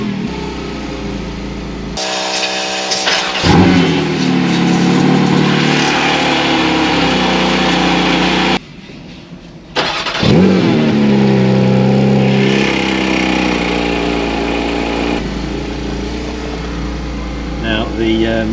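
A Porsche Cayman GT4 RS engine starts and revs, with a loud burst of engine noise after a quiet start, then a short cut to near silence and another rising rev that settles into a steady idle. Speech comes in between.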